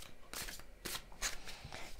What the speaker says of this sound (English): We'll shuffle more.